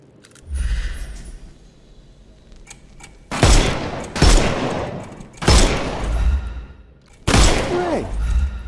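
Gunfire in the video game Sherlock Holmes: Chapter One, four loud sharp bursts of shots at intervals, each with a booming tail, between quieter stretches of game ambience.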